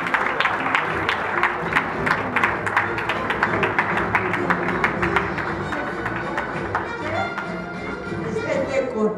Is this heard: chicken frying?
no